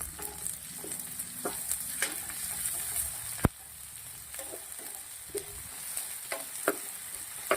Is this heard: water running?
no